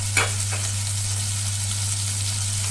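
Grated garlic sautés in a spoonful of butter for a pasta cheese sauce, giving a steady, even sizzling hiss over a constant low hum, with one brief soft knock at the start and no voices.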